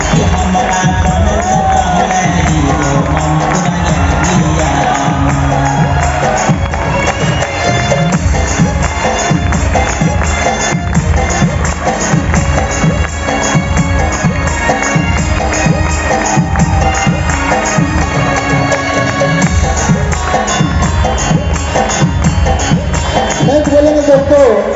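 A large crowd at a recognition event on Patna's Gandhi Maidan cheers loudly for a man named Uday Kumar. Shouting and cheering run continuously for over twenty seconds, close and loud, with tonal voices and other sounds woven through.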